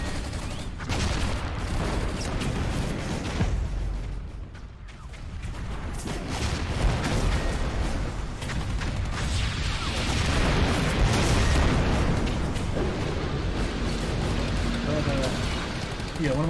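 Dense, sustained battle gunfire from the animated Warhammer film Helsreach, with loud rolling volleys and heavy explosive booms continuing throughout, mixed with voices and chaotic combat noise.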